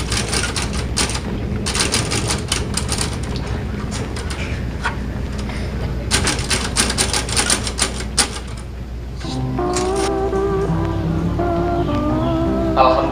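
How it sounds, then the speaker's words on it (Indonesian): Continuous rapid clacking of typewriter keys as proclamation text is typed, in bursts of fast strikes under a steady room hum, fading into background music near the end. "Bung Sayuti, apakah saudara siap untuk mengetik teks proklamasi?"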